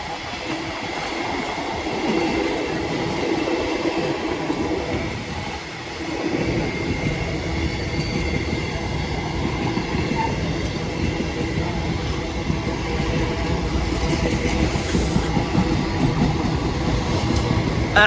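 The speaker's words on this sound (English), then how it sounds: "here comes the 8:38 cross-country service to Bournemouth from Manchester" A CrossCountry passenger train bound for Bournemouth rumbles steadily into a station, its wheels and carriages giving a continuous mid-distance roar with faint clatter throughout.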